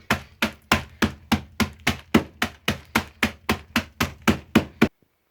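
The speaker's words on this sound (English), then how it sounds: "I have wrapped the baggie of nuts in a towel. I have the hammer." A hammer pounding a bag of nuts wrapped in a towel for charoset, about fifteen evenly spaced dull thuds at a steady quick rhythm, close and loud, stopping abruptly.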